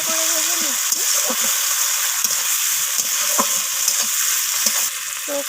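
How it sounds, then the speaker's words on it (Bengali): Chopped onions and tomatoes sizzle in a pan while being stirred, a steady frying hiss broken by repeated scraping strokes of a spatula, close and clear. "আবারও নাড়াচাড়া করে ভেজে নিচ্ছি"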